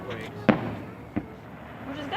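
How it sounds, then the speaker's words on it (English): Fourth of July fireworks seen from a back deck pop in two sharp, distant booms over soft outdoor ambience. "Fireworks. There'll be a bunch of booming."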